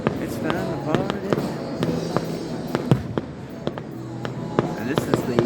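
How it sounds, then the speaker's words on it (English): Fireworks display at Seven Springs Mountain Resort in Champion, Pennsylvania, with sharp distant bangs and crackling bursts popping irregularly over a steady crowd murmur, with voices talking throughout. "this is the fireworks going on here at the Southern Springs Mountain Resort"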